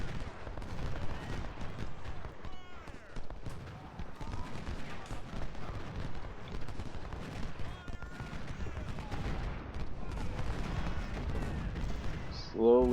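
Civil War battle gunfire in the strategy game Ultimate General: Civil War, with dense, continuous volleys of musketry and distant cannon rumbling throughout, while someone talks over the din.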